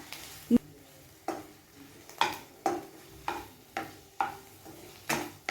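A spoon stirring thick watermelon rind halwa in a pan, with about seven close, regular scraping strokes, roughly one each second, over a faint sizzle.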